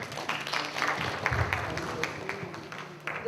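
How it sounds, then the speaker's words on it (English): A Buddhist Dhamma conference audience in Bhopal, India applauds in a hall with continuous, moderately distant clapping mixed with faint murmuring. "So give you a big applause to her."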